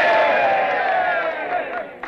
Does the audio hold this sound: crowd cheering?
yes